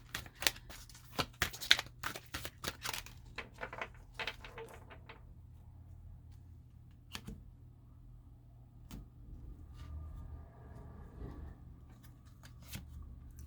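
Tarot cards are riffled and shuffled by hand in a quiet room, a run of quick, crisp flutters and snaps early on, easing into softer handling and occasional taps.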